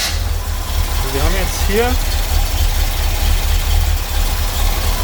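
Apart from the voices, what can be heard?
Corvette C3 engine starting and idling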